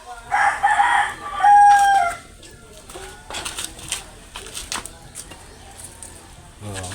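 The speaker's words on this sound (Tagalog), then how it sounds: "Marami ding manok." A rooster crows loudly near the start, followed by scattered clucking and farmyard bird sounds with some background noise.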